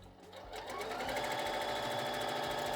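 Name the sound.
sewing machine running out of control stitching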